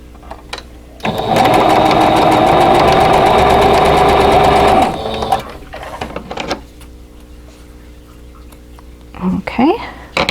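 A sewing machine stitches quilt block pieces for an Arrowhead Puzzle block, one loud steady whirring run of about four seconds, then quiet room noise and faint handling sounds.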